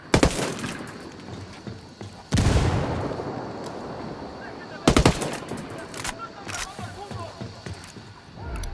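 A grenade blast and bursts of automatic gunfire in the video game Ghost Recon Wildlands: rapid rattling volleys, then a sudden loud explosion, then further sharp cracks of shots, with voices mixed in the background.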